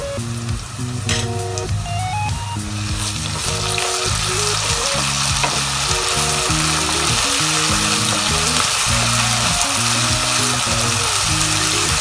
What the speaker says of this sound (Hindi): देखिए, 2 मिनट हो चुके हैं इसको फ्राई होते हुए।